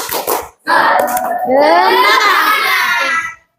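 Schoolchildren in a classroom doing the tepuk semangat clapping chant, a short burst of claps followed by a loud group shout of children's voices chanting together.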